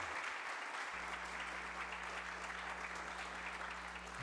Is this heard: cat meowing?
no